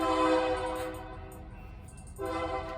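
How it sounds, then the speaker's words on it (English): A passing train sounds a sustained multi-tone horn, which drops away into a quieter rolling rumble before blaring again, heard from a moderate distance with no talking. "I'm gonna let this train roll by"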